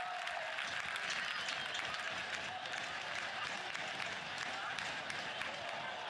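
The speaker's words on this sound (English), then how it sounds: "A big round of applause from the home crowd" At a St. Louis soccer match, the home crowd applauds in a dense, sustained wash of clapping and cheering from a large stadium audience that holds steady throughout, with a commentator's voice faintly underneath.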